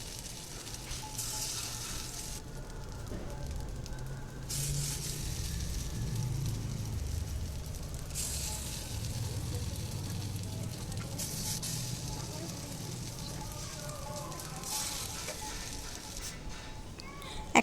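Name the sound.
pancakes of oats, chira and semolina frying in white oil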